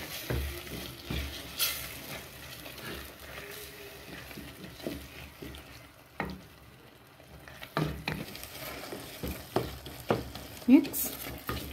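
Liver fries in a pan with tomatoes and onions while being stirred, with soft sizzling under repeated scraping and stirring bursts, close and intermittent with brief quieter pauses.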